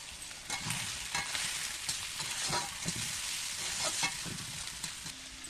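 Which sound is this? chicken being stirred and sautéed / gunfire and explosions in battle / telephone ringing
chicken being stirred and sautéed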